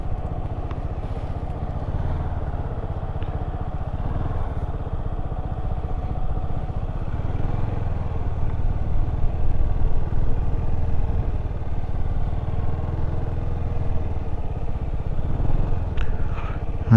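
A motorcycle ridden slowly around cones in a parking lot by a learner working the throttle, its engine running steadily and fairly close, with a low continuous drone that swells slightly midway and no talking.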